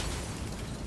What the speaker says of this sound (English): Watch out, the explosion.